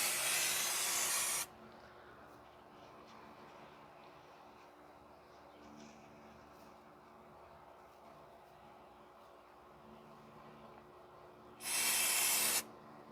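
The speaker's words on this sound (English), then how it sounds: "I don't want to get brake cleaner inside the engine, so I just want to spray a sparing" Brake cleaner hisses out of a spray can in two loud bursts of about a second each, one at the start and one near the end, with quiet workshop noise between, during a clutch replacement on a 2010 Toyota Corolla 1.8.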